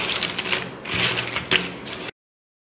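Crisp, dry crunching of spicy fried pepper button snacks, a close run of crackling bites heard alone with no talk.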